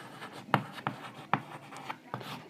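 Chalk writes on a board during a physics lecture, giving a few short scratchy strokes and taps at uneven spacing, close and fairly clear, with no talking.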